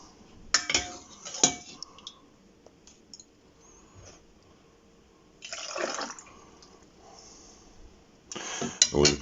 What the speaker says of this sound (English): So in we go, I'm using a ladle.